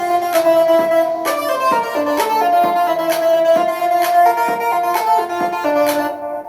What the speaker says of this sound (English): you have the kicks with the claps as well